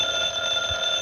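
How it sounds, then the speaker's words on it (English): An old-fashioned telephone rings indoors, a continuous bright electric bell tone that holds steady and fairly loud on its own, with no talking over it. "I believe that's the phone."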